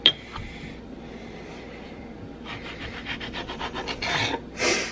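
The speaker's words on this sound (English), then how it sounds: "So now we're going to cut them in half, and I kind of do it along the longest length of the tomato." A knife slices tomatoes in half lengthwise for a roasted marinara, giving a quiet run of short rasping strokes that grows busier toward the end, with a faint tap at the start.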